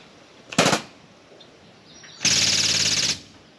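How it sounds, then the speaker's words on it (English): Pneumatic grease gun servicing machinery with hydraulics, giving two loud, close bursts of rapid air-driven rattling, a short one and then a longer one of about a second, with quiet between them. "We'll use pneumatic grease gun, get her serviced up and ready to go."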